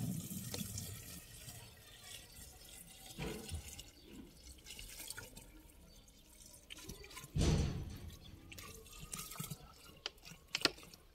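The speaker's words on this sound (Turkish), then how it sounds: "Kalan suyu da şişenin içine boşaltalım." Leftover water is poured into a bottle in a tomato garden, giving faint trickling and splashing with a louder gush partway through, close by and with no talk.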